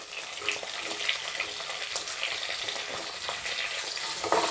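Onions sizzle in hot oil for green peas rice, a steady broadband crackle of frying running throughout with brief scrapes of stirring, fairly close and alone without talk.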